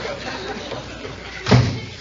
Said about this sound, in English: No, Bessie, go out and close the door.